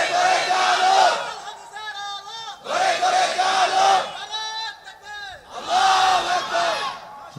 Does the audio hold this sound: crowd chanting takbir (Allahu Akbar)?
yes